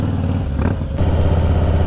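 A Harley-Davidson Fat Boy motorcycle with an aftermarket exhaust rumbles on the road, a steady low engine drone with a brief shift-like dip partway through, heard up close and alone.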